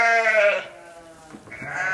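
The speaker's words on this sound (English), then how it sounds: "Here we have my Dorpers, beautiful Dorper. That's the purebred sheep, hair sheep" A purebred Dorper hair sheep bleats once, loud and close, a wavering cry that fades and then rises briefly into a second shorter call.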